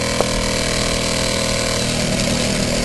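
Small engine idling smoothly in neutral, a steady close low rumble with even firing and no changes in revs, with no voices over it.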